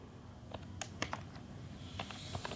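Someone types on a computer keyboard while writing an HTML page title in a code editor. Sparse, faint keystroke clicks come in small irregular bursts over quiet background hiss.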